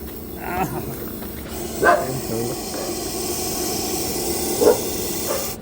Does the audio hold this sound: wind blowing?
no